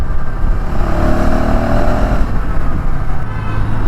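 A 2025 KTM Adventure 390 X Plus motorcycle rides along with a steady, loud engine drone mixed with strong wind rumble, the engine pitch shifting briefly mid-ride.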